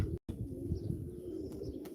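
Low, soft cooing of flying pigeons at a live pigeon auction, a faint murmur of calls with a brief gap of silence near the start.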